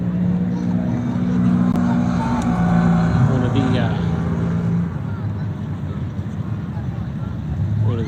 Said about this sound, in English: they're running this little side by side